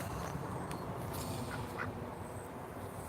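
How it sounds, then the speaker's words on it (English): A duck quacking excitedly, with a few faint, scattered quacks against a steady, fairly loud background noise. "Yep, duck is going crazy right now."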